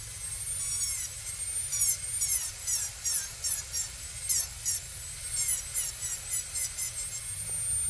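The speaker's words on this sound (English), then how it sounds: "this is where I want to use a real fine finishing burr because I'm not trying to gouge this thing up" A fine finishing dental burr whines at high pitch while contouring a 3D printed dental restoration, its shrill tone rising and dipping in short repeated passes, close and fairly loud with no talking.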